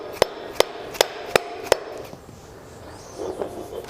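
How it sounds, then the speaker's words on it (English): Five sharp metallic hammer blows ring out at a steady pace, close and loud, as a hammer forces an old part across the threads of a BMW E46 shock, then give way to quieter scraping and background noise. "just beating them with a hammer and kind of forcing them across the threads"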